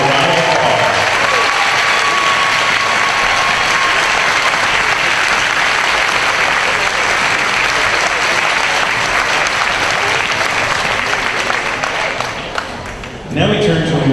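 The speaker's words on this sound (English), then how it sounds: "just give a round of applause." A sustained, loud round of applause from a large crowd for new employees at an opening-day staff event, continuous for many seconds before fading and briefly resuming at the end.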